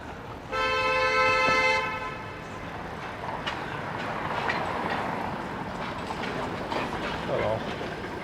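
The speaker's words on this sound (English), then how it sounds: "Horn honking action going on." On King Street West in Toronto, a loud, sustained car horn blast of over a second rings out near the start, then traffic rumbles on with a brief fainter honk near the end.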